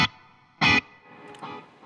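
Short, distorted electric guitar stabs through an Eventide H9 pedal's hall reverb ring out, each followed by a soft, lingering reverb tail that fades gently into the background.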